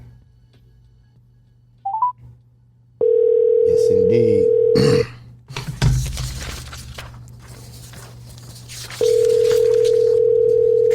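A telephone line is opened with a short burst of dialing, then a steady loud dial tone holds before cutting out amid clatter and a brief voice, and the tone returns near the end.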